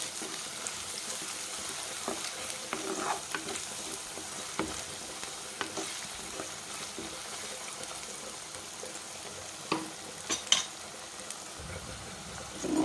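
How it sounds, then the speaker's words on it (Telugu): Ginger garlic paste sizzles steadily in hot oil in a pan while frying for a mutton curry, a continuous close hiss broken by occasional sharp crackles and faint stirring clicks, with no talk. "అల్లం వెల్లిపాయ పేస్ట్ బాగా వేగాలన్నమాట. పచ్చివాసన పోయిందాకా వేయించుకోవాలి మనం."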